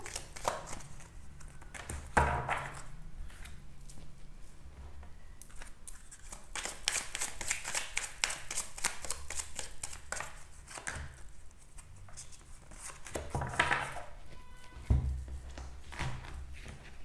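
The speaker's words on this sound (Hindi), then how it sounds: "कार्ड शफल होंगे, फिर कार्ड्स पुल आउट होंगे" Tarot cards shuffled by hand in a quiet room, soft papery riffles and taps coming in bursts with pauses between them, close but faint.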